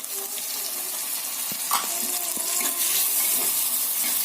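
Tomatoes go into a clay pot over softened onions, frying with a steady sizzle and a few light clinks and stirring sounds near the middle, close and moderately loud with no talking.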